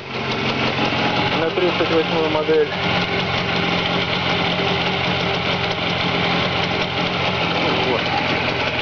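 A Jawa 638 motorcycle engine runs on a test stand with a steady, buzzing idle close by, and someone talks over it.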